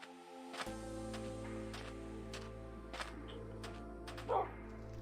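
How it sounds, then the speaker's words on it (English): Dogs bark in the Minecraft video game, with several sharp yips and barks spread across a few seconds over a steady low ambient hum, with no talk. "We've got some dogs over here"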